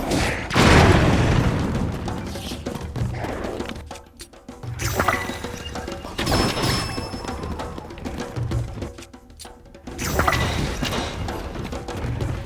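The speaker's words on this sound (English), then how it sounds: "That is a bomb." Bomb explosions in Zelda: Tears of the Kingdom, several deep booms with clanging debris recurring every few seconds, loud and close with no talk.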